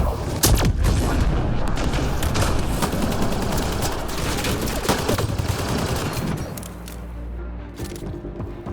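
Sustained firefight gunfire from Mass Effect Andromeda, with dense overlapping shots and heavy booms rattling loudly and continuously, thinning slightly toward the end.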